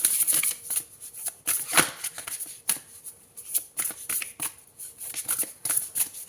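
Tarot cards shuffled by hand at close range, a steady run of riffling, rustling bursts with short pauses between, no voices.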